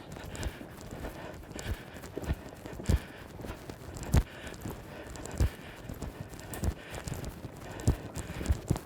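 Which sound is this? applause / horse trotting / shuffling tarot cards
horse trotting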